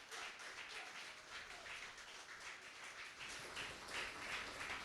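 A church congregation claps in welcome for a visiting preacher, a dense, continuous patter of many hands that is even and moderately loud throughout, with no voices.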